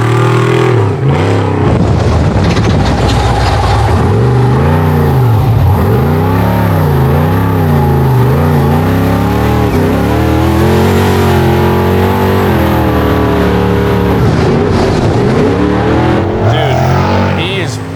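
A Trophy Bug off-road race car launches at full throttle on a night rally run, its engine loud and close as the pitch climbs and drops through repeated rising gear-shift sweeps, with voices faintly beneath.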